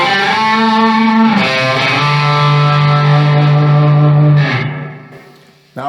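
A Gibson Les Paul runs through a distortion pedal into a Marshall SV20H amp, playing loud sustained distorted notes that bend and hold, then fade and cut off with a short burst at the end.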